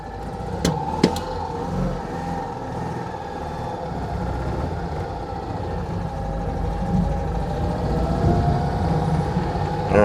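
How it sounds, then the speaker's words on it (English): A Citroën 2CV's small engine drones steadily, rising a little as it is revved, heard up close with a couple of sharp clicks near the start and no talking. "revving the engine is how you operate the fan"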